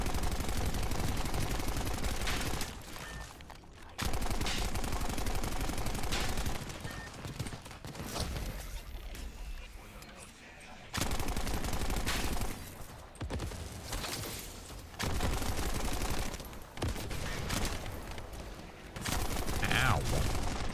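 Sustained automatic gunfire in the looter-shooter video game The First Descendant comes in loud, dense bursts of rapid shots. Short gaps separate the bursts, and a quieter stretch in the middle has only faint action sounds.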